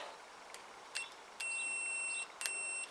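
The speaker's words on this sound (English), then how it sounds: "we flick it to continuity, so that every time I touch these together" A multimeter set to continuity beeps while its probes test a side stand switch on a Zontes Tiger 125 motorcycle: a few short chirps, then two sustained electronic tones, with the second cut off near the end. The tones are clear against a quiet room.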